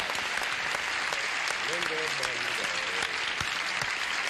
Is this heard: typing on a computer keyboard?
no